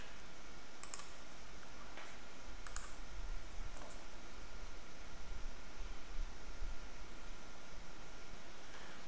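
A few sharp computer mouse clicks, some in quick pairs, sound close up over a steady faint hiss of background noise, with long quiet gaps between them.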